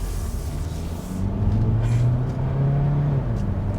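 A 2021 Hyundai Elantra Hybrid with a 6-speed, driven in sport mode, accelerates from inside the cabin, its engine drone rising into a steady, slightly buzzy low hum with gradually climbing pitch.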